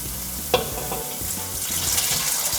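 Meat sizzles in a pan while Nasi Rawon is cooked, a continuous hissing fry with a brief clatter near the start, close and fairly loud.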